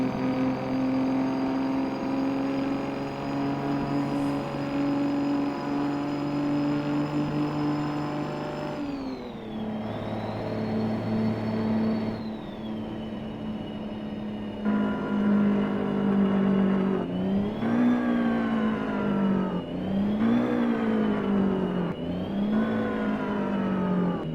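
A custom Peterbilt truck engine in American Truck Simulator drones steadily with a rough mechanical tone, then its pitch shifts and rises and falls in several revving surges.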